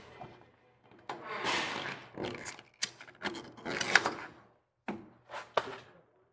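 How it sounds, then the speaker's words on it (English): A rubber bump stop is pushed back into a truck suspension mount during a Fabtech lift kit install, heard as close rubbing, scraping thumps and short knocks arriving in uneven bursts with brief pauses. "Now just shove the bump stop back in."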